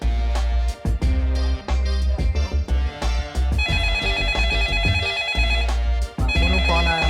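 A mobile phone ringtone plays loudly as an incoming call arrives, a full musical tune with a driving beat and bright layered tones that runs continuously with brief gaps.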